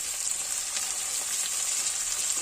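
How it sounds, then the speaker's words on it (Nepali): Potatoes and onion fry in a pan for aloo methi, a steady, close sizzle that holds evenly throughout with no talk. "अहिले आलु फ्राई गर्दै प्याज फ्राई हुन्छ"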